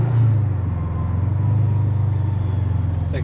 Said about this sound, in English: Second gear, downshifting.